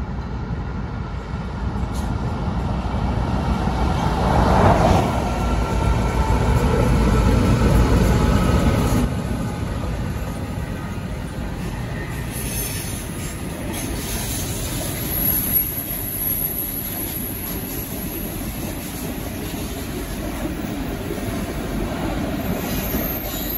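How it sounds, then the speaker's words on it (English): The Ghan, Australia's longest train, rumbles steadily past on the Adelaide–Darwin railway, a continuous loud roar with faint wheel squeals and clatter, no voices. "you guys can see the Australia's longest train, the GAN, coming through this railway track"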